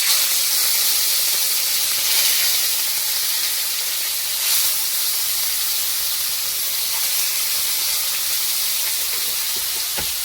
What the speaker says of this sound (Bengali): মাছটাকে ভালো করে ভেজে নেব।